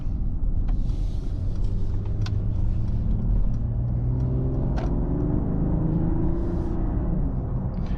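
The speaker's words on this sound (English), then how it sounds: "Right now actually the sound button is off, but we still get this pretty nice sound in sport mode." A 2025 Mercedes-AMG GLE 53 Hybrid SUV in sport mode, with the sound button off, produces a steady, close, deep engine rumble and road hum from inside the cabin, with a few faint clicks above it.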